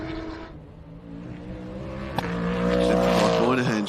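Sports sedans race at a Sydney circuit, engines revving and climbing in pitch as the cars accelerate and pass close by, loud and rising, with a commentator's voice running over the roar.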